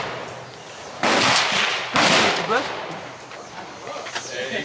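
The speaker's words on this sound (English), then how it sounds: "Yeah, it's the shotgun." Shotgun fired at an outdoor gun range: two loud, sharp blasts about a second apart, each with a short echoing tail, over a steady background of wind and distant activity.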